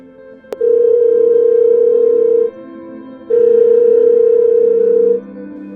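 An unanswered phone call rings out as two long, steady ringback tones heard through the line, separated by a short pause, with a click at the start.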